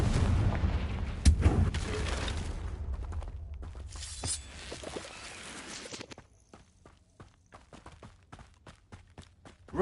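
A Confringo fire spell blasts in Hogwarts Legacy, loud booming impacts and crackling bursts up front that fade into sparse clicks and footsteps.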